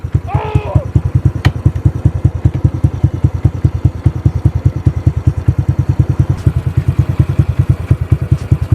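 A motorcycle with a new aftermarket exhaust pipe, a Jame Racing pipe on a 125 LED bike, idles and blips in a fast, steady stream of loud, close thudding exhaust pulses with brief revs.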